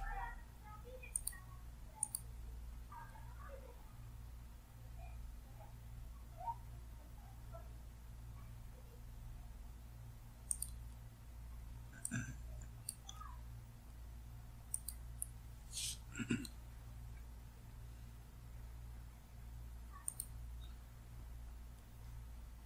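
Computer mouse clicks sound as scattered single and double taps spread across a quiet room with a steady low hum, faint and close, with long gaps between clicks.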